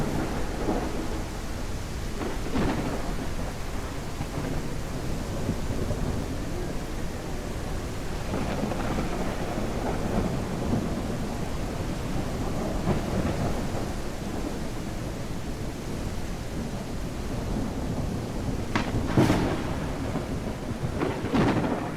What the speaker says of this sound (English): so you won't hear the thunderstorm as much